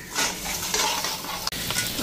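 Crabs fry with spices in a small kadai, a steady sizzle under repeated scraping stir strokes of a spoon against the pan, with one brief clatter.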